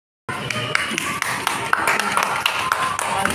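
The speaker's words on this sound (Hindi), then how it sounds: "आप सभी से मेरा अनुरोध है कि जोरदार तालियां बजा करके इनका" Hearty applause from an audience at a Varanasi event, dense overlapping claps starting abruptly and holding steady and loud close by.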